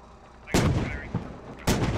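Two loud, close gunshots in Squad, a second apart, each with a sharp crack and rumbling tail, plus a fainter report between them.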